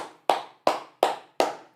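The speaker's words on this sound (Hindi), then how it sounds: "तालियां बनती है तुम्हारे लिए" A single person claps five times, close and crisp, in an even slow rhythm for students during a NEET physics class.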